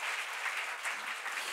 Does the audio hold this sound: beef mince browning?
no